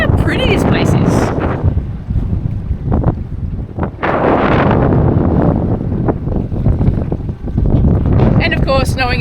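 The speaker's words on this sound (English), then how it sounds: "the wind is directly against us, so it's slowing us down a bit" Wind blows head-on across a sailboat under way in the Ionian Sea, a loud continuous rushing buffet on the microphone with surging gusts, mixed with water and hull noise while people talk nearby.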